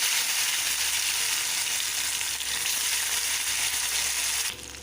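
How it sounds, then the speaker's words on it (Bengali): Potatoes frying in hot oil with whole spices, a dense continuous sizzle holding steady and close for almost five seconds before easing slightly at the end. "এখন আমি আলুগুলো ভেজে নেব"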